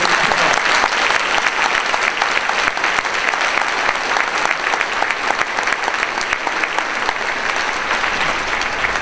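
Sustained audience applause fills a church hall during a 50th anniversary celebration honoring a minister, dense steady clapping from a large congregation heard alone, even in loudness throughout.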